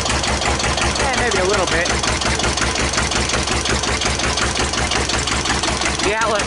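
A 1941 Witte one-cylinder diesel generator plant thumps loudly and evenly, each slow, heavy firing stroke clearly separate, with someone speaking briefly over the running engine.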